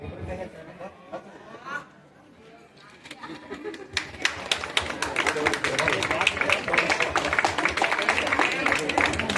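A crowd at a government high school's annual gathering and farewell for tenth-grade students breaks into dense, sustained applause after a few seconds of quieter murmuring, the clapping growing steadily louder and fuller.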